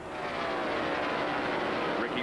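Stock car engine roaring steadily as the driver gets back on the throttle at Indianapolis in a 1997 NASCAR race entering turn one, a continuous broadband drone mixed under commentary.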